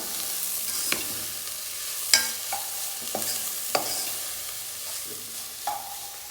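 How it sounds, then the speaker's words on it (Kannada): Carrot and vegetable momo stuffing frying in a pan, a soft steady sizzle broken by several sharp scrapes and clacks of stirring at irregular intervals. "ಈ ಸ್ಟಫಿಂಗ್ ನೋಡ್ಕೋಬೇಕು ಚೆನ್ನಾಗಿ, ಸ್ವಲ್ಪ ಹಸಿ ವಾಸನೆ ಹೋಗೋವರೆಗೂ ಸ್ವಲ್ಪ ಫ್ರೈ ಮಾಡ್ಕೋಬೇಕು."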